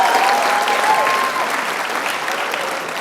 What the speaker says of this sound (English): I want to hear some clapping.